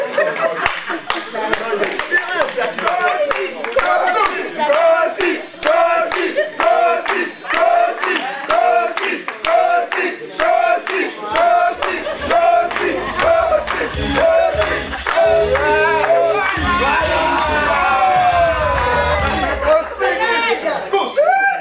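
A crowd of union delegates at a congress claps in a loud, rhythmic, chant-like unison. Voices shout and chatter throughout, and the noise swells into a broader roar near the end.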